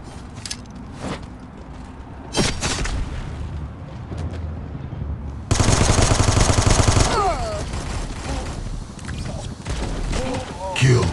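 Gunfire in the mobile shooter game Guns of Boom comes in loud bursts of rapid fire and heavy booms, with a game announcer's voice over the action.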